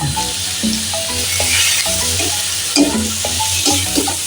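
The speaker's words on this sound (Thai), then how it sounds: "ใส่ดอลลี่ผัดไปเลย อันนี้จะใส่หอมผัดลงไปด้วยค่ะ" Dolly fish and shallots stir-frying in a pan for a rice soup with mushrooms: a loud, close sizzle carries under a repeated tonal musical pattern, with a few utensil knocks and no speech.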